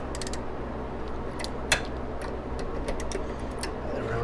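A wrench works loose the nuts on battery cable terminals, producing irregular small metallic clicks and ratchet-like ticks over a steady background hiss, close by with no talking.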